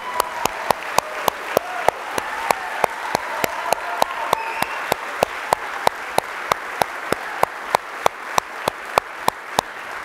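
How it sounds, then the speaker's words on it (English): Audience applause at an awards honors event, steady dense clapping from a crowded room lasting the full stretch, loud and continuous with sharp individual claps standing out. "Give them one more round of applause."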